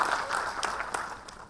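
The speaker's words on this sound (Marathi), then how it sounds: "रेश्मा मॅडमसाठी आपण टाळ्या देऊया" An audience at the Excellence Group 5th anniversary celebration claps briefly for a woman honoured for her social work, a soft, steady patter of applause heard from some distance.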